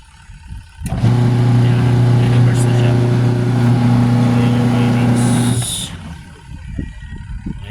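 Washing machine motor spinning during a wiring test, a loud steady electric whine and hum starting abruptly, running for several seconds, then cutting off, with a person talking over it.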